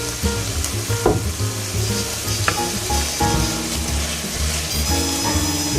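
Garlic hitting a hot frying pan, a loud close sizzle with stirring clatter and a few sharp taps, continuous throughout with no speech.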